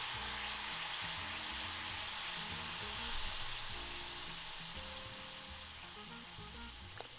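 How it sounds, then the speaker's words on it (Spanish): Onion frying in hot oil on a stove for Mexican verdolagas with longaniza, a steady dense sizzle running close and loud throughout, with faint clinks near the end and no talk. "Vamos a poner aquí la cebolla para acitronarla perfectamente"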